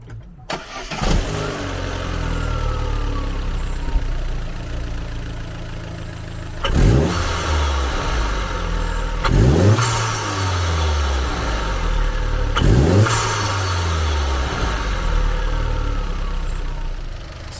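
A 2015 Vauxhall Corsa E VXR with a stage 1 performance induction kit starts up and idles, then gets three strong revs that swell and fall away, loud and close, with no talking.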